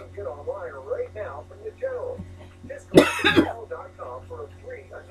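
A single sharp cough, set off by a cloud of makeup powder, bursts out midway, surrounded by a person talking before and after.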